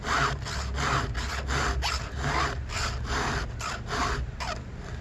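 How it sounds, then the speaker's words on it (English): Hand file rasping across a damaged chainsaw chain tooth during sharpening, steady back-and-forth strokes in a quick repeating rhythm, close and loud with a gritty metallic scrape. "I'm kind of boating with the file there."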